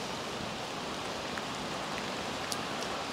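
Steady rain hisses evenly throughout, with a few faint drips standing out; no voices.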